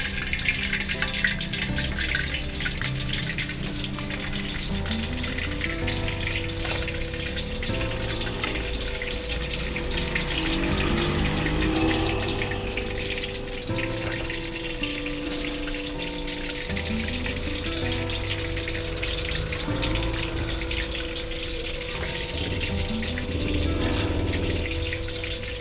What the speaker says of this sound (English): I have 10 pieces of tofu and I'm going to fry.